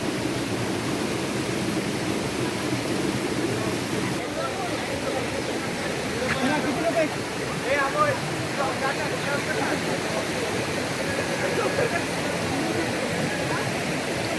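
A small stream at a water crossing on the trail to Devkund waterfall rushes in a steady, continuous wash, broadband and constant, with a few faint voices and splashes mixed in.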